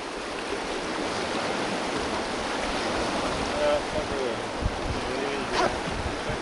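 Rushing river water on the Seti River in Nepal during a rafting trip, a steady broadband roar throughout with faint voices and brief splashes underneath.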